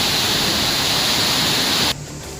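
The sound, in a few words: river water rushing through the open gates of Masanjore Dam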